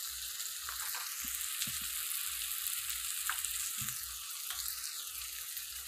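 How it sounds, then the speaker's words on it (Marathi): Cluster beans in a spicy gravy masala sauté in hot oil with a steady, close sizzle, broken by occasional soft scrapes and clicks of a spoon stirring the pan. "या वस्तू चांगलं तेल सुटेपर्यंत व्यवस्थित परतून घ्यायच्या."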